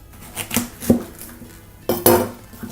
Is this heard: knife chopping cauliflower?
yes